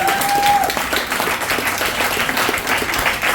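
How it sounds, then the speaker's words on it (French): A church congregation at a prayer and healing meeting claps for a newly baptized man, dense sustained applause filling the room at full strength from start to end. "oui, applaudissez"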